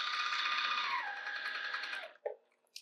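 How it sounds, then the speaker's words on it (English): A sewing machine stitches a long row across a big piece of fabric, a fast steady whirring close by that slows and stops near the end, followed by a couple of soft clicks. "It's not super important to backstitch because we are going to cut our pieces out of this big giant piece."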